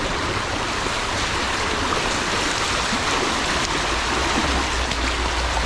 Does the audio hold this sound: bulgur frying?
no